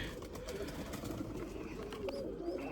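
Lemon-coloured breeding pigeons in a loft give soft, low coos, faint and somewhat close, repeating over a quiet background murmur.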